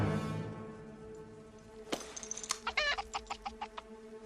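A chicken clucks in a rapid run of sharp, choppy bursts after a low droning stretch, the clucks loud and close, used as a comic sound effect.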